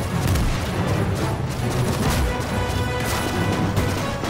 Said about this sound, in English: Infantry opening fire onto them